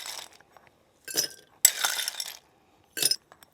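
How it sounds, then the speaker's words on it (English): Ice cubes clink and rattle as they are dropped into a Caesar cocktail glass, coming in a few separate bright bursts with quiet gaps between them and no talking. "Next thing we need to do is you fill the glass with ice."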